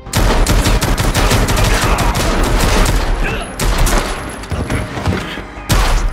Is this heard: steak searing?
no